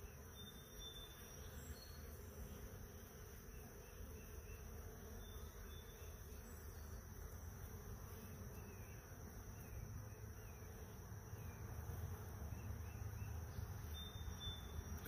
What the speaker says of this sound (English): I got a fly that keeps landing on me, and I keep looking to see if it's the bee, because they're buzzing around my head